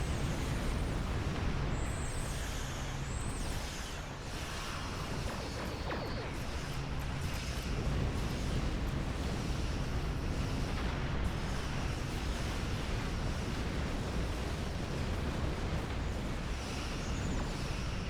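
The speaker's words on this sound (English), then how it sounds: "It's a lot of explosions, guys." Dense, continuous rumbling explosions and booming blasts from space combat in the video game Star Trek Online, loud and sustained throughout with a few brief whooshing tones above.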